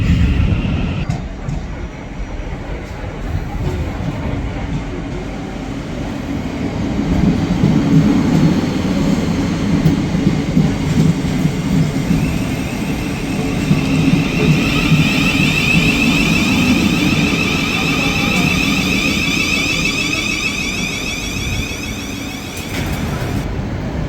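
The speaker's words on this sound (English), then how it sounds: "Another fast train. This time we've got a Javelin. Southeastern High Speed Javelin." A Southeastern High Speed Javelin train rushes past a station platform, a loud, steady roar with rising rumble and a high whine, building over about twenty seconds without speech.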